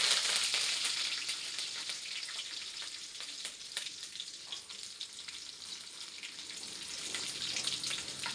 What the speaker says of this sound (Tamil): அது கூடவே சுரக்காயும் சேர்த்து நல்லா வதக்கிக்கலாம்